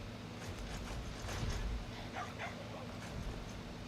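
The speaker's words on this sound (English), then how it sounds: "My dog's going nuts." A dog in the video game ARK: Survival Ascended barks and yips repeatedly, with some whining mixed in, against a low game ambience and a few faint voices.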